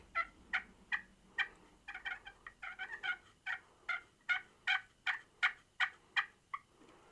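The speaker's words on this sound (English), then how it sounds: "So I try not to do a lot of yelping on this call because it kind of sounds rough" A Hunter Specialty slate turkey call plays a series of raspy yelps at close range, about a dozen to twenty notes in a steady rhythm with a quicker cluster partway through; no talking is heard.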